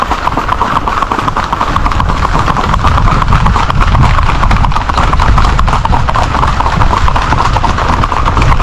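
Horse hooves clip-clop in a steady, continuous rhythm on a road in barrio Las Vegas, Puerto Rico, loud and close throughout, with a faint whinny possible among the hoofbeats.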